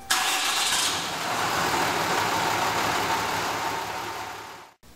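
A diesel truck engine is remote-started, a steady loud mechanical roar with an initial bright burst in the first second, running evenly until it cuts off abruptly near the end.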